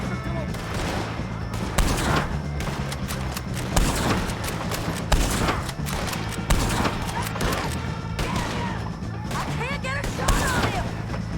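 Gunfire in Red Dead Redemption 2 against O'Driscolls, dense repeated shots cracking in rapid clusters throughout, with voices shouting over the shooting.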